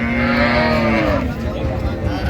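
A cow at a rural cattle market in Dinajpur gives a long, loud, close moo with a falling tone, sustained over a dense crowd murmur.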